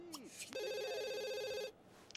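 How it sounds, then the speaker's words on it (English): Telephone ringing in The Sims 2, a single sustained electronic warbling ring lasting over a second after some brief game sounds, quiet and clear, with a short tail of ambient noise afterward. "Go answer the phone."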